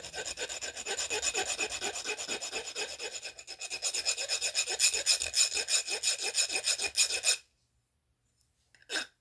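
A cut bicycle brake cable end is filed with quick, rhythmic rasping strokes, close and loud, for about seven seconds before stopping abruptly, followed by a brief faint scrape.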